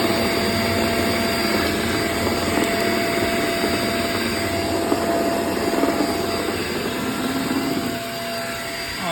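A cordless vacuum cleaner runs continuously with its hose attachment, sucking up mess including hair, making a loud, steady, close whine and rushing airflow that dips slightly near the end.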